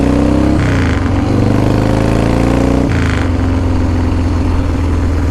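A custom-built Harley-Davidson motorcycle engine idles with a deep, steady throb and is revved twice, each sharp throttle blip rising then settling back to the loud, close idle.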